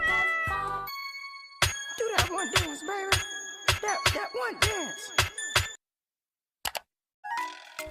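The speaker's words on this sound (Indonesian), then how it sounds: "She is playing with a cat." A cat meows in a quick series of about a dozen close, clear cries, with short tones before and after them and a brief silent gap near the end.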